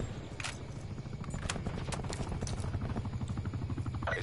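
An attack helicopter in the video game Black Ops 4 makes a quiet, steady rotor chop with an even thumping rhythm that builds slightly over a few seconds, with no talking over it.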